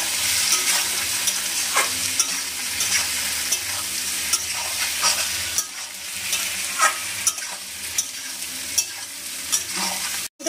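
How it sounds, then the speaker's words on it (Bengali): Salt-boiled potatoes fry in rendered goat fat, a bright steady sizzle with scattered stirring clacks of a utensil in the pan, close by and without speech. "এবার ভালো করে ভেজে নেবো চর্বির সাথে ভালো করে আলুটা।"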